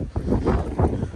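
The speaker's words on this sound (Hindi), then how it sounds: "हवा तो फिर भी है तेज़।" Strong mountain wind gusting on Ben Nevis near Fort William, Scotland, roaring and buffeting the microphone in rising and falling bursts, with no talk.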